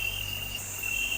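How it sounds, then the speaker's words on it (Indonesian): Crickets chirp steadily at night along a rural road, a continuous high insect trill with a faint breeze underneath, no voices present. "Angin, ya suara angin, suara jangkrik itu"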